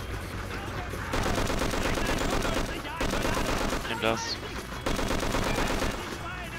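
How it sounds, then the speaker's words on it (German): Machine gun fire from the video game Just Cause rattles in dense, continuous bursts with short breaks, loud and close, while someone speaks German over it. "da mal ein bisschen mehr zu schießen"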